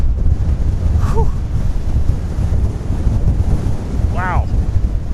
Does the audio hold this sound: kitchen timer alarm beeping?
no